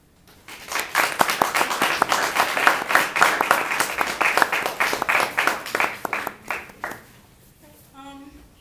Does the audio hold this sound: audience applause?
yes